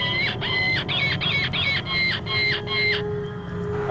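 A call device imitating the cries of wild animals in distress gives about six shrill, squealing cries in a steady rhythm, loud and close, then falls quiet.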